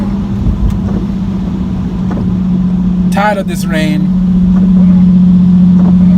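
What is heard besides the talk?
Nissan 370Z with muffler delete driving, exhaust drone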